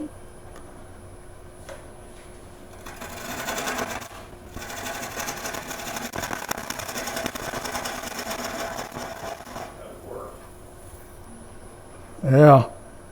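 A wood lathe spins a wooden hat blank while a bowl gouge roughs it to shape, giving a steady droning hum with bursts of cutting noise in the middle, then a short loud thump near the end.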